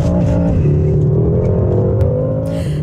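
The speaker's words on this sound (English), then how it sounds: "Now that's the sound of a speeding BMW." A speeding BMW car accelerates hard, its engine roaring loud and close with a rising, rough growl that stays steady and then eases slightly near the end, with no talking.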